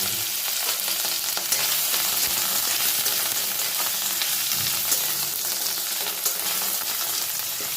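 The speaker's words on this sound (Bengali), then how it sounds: "এবার আমি আদা বাটাটা এর মধ্যে অ্যাড করে দেব।" Ginger paste dropped into hot oil with tempering spices in a pan, a steady loud sizzle and frying hiss running throughout with light stirring, no voices.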